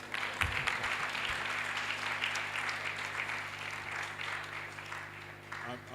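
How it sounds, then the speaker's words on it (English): An audience at a children's book launch claps for the chairman, a continuous wash of applause with a low hum underneath, holding steady before tapering slightly near the end. "So give me a round of applause."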